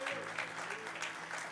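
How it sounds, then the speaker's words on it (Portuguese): A church congregation claps in steady applause, fairly faint, with a sustained organ or keyboard tone beneath it. "Isso, glória a Deus, forte aplauso, Senhor."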